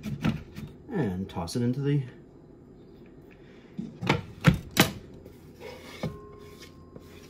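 Herbs for chimichurri are roughly chopped with a knife on a board, a few sharp cutting strikes in quick clusters between stretches of quiet, with someone talking over parts of it.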